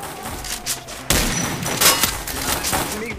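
A burst of video game gunfire, a sharp shot followed by rapid rattling reports, over a low background ambience.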